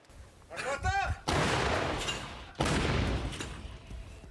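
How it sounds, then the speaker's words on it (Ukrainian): Two heavy Soviet D-30 howitzer blasts boom out a second or so apart, each a sharp loud crack followed by a long rolling roar; a brief whistling tone precedes the first. "Так українські воїни б'ють по росіянах з радянської гармати Д-30."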